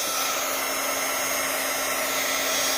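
A handheld heat tool blows hot air to shrink plastic wrap around a sublimation notepad holder, a steady loud whooshing hum like a hair dryer, constant and alone throughout.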